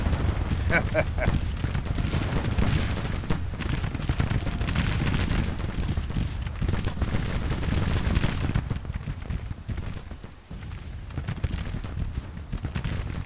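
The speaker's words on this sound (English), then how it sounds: "Look at all that artillery fire." Rolling artillery fire in the Civil War strategy game Grand Tactician, a dense, continuous barrage of booms and crackling gunfire that stays loud throughout, easing slightly near the end, with a voice briefly over it.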